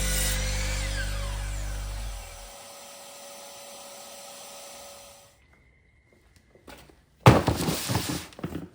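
A power tool cuts hardwood pieces of maple, mahogany, cherry and walnut for an end grain cutting board, a loud steady whine that spins down and stops, followed after a short pause by a burst of clattering and handling noise.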